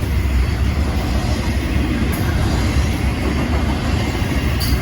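Norfolk Southern intermodal freight train heading westbound toward Memphis, passing close with a continuous broadband rumble and rattle of rail cars, loud and steady throughout, no voices.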